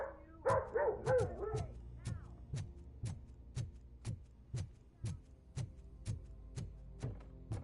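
A dog in a game set in a city gives a cluster of yelps and barks at the start, then falls quiet under a steady series of evenly spaced sharp clicks or thuds, all faint and without speech.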